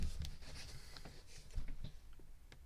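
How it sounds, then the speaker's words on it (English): Tarot cards get a cleansing shuffle close by, giving soft papery rustles and light irregular taps, faint and without speech. "Let me do a cleansing shuffle for you."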